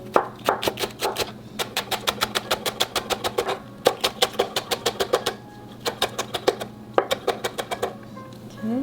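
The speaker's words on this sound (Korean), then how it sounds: "송송 썰어주었습니다." A knife finely slices a green onion stalk on a cutting board in rapid bursts of sharp, even taps, with short pauses between runs, over a low steady hum.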